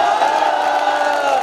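At a poetry recital held during a Dussehra fair in Banswara, a loud audience roars with cheering and whoops, a dense, steady wall of crowd noise sustained throughout with no single voice standing out.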